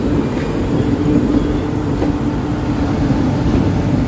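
A train pulling into Thiruvananthapuram Central railway station, heard from inside as a steady loud low rumble and rolling drone of the carriage, continuous with no distinct horn or announcements.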